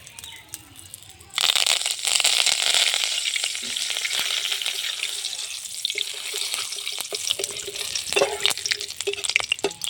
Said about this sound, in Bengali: এবার আমি কারি পাতাটা ভেজে নেব।